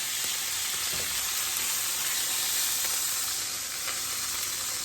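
Chicken thigh skin frying in a pan, a loud steady sizzle with dense crackling hiss throughout and a few faint pops, close up and continuous with no talking.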